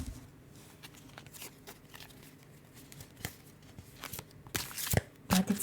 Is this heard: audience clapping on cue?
no